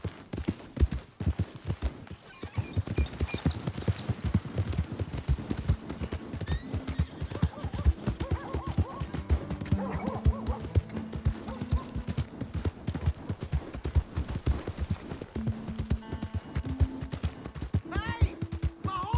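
Horse hooves clip-clop in a steady rhythm through most of a Red Dead Redemption 2 scene, with a horse whinnying partway through, fairly close and clear.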